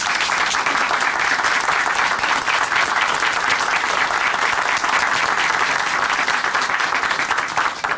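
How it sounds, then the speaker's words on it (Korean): A dense, steady wash of audience applause in a Christian testimony program, many hands clapping evenly for eight seconds with a faint crowd murmur and no clear speech. "박수로 함께 응원해 드리겠습니다"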